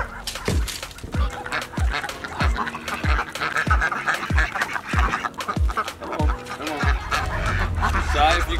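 A flock of farm ducks being rounded up from duck tractors and electrified netting for processing day quack loudly and insistently, a rapid string of about a dozen honking calls close by over constant rustling commotion.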